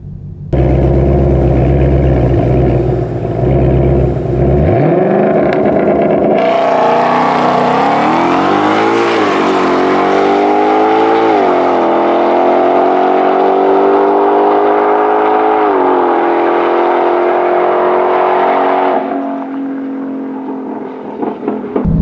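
2020 Ford Shelby GT500 on a stock boost drag pass, its supercharged engine idling low, then launching hard into a loud, rising roar that pulls through several gear changes for about twelve seconds before lifting off, with no talk.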